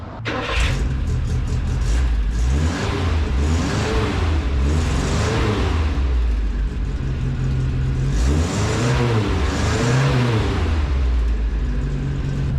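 An old U-Haul truck engine fires up and revs repeatedly through a new exhaust, rising and falling in deep throaty surges, loud and close for the whole stretch.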